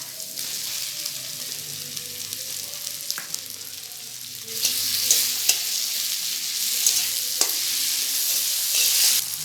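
Tomatoes drop into a frying pan with ginger and garlic, setting off a steady bright sizzle; it swells louder midway, with occasional stirring clicks and scrapes against the pan.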